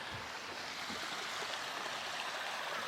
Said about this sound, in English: What is that? That's bubbles.